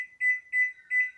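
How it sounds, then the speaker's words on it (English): Kitchen timer being set while making persimmon jam, giving three short, clear electronic beeps in an even rhythm, close and moderately loud, with no talking. "So now I'm going to set me a timer."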